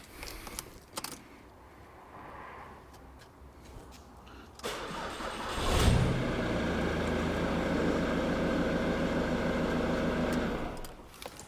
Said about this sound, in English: So let me start this vehicle now.